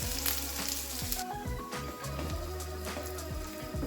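Cumin seeds and garlic pieces frying in hot oil, a soft continuous sizzle with crackles and brief stirring sounds, close but quiet.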